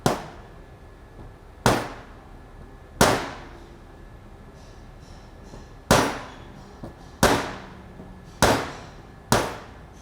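Sharp metallic taps knock at the gear during teardown of a Jarvis SHC circular saw: about eight crisp, isolated strikes at uneven intervals, each ringing briefly over a quiet background.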